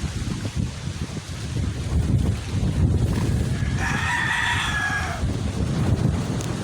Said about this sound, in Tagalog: ang lakas ng hangin doon